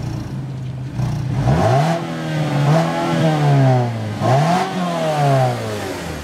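A 2014 Mazda3 with the 2.5-litre engine revving hard from idle, rising twice to a loud, strained peak near a 5,000 RPM limit and then dropping back, heard close with no talk.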